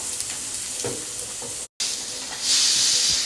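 Onions frying with salt and turmeric in a pan give a steady, close sizzle and hiss, with light stirring clicks and a brief cut before the frying swells louder.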